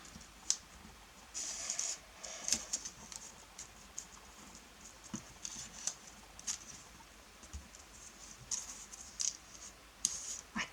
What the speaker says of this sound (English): you can cut these extra bits off as well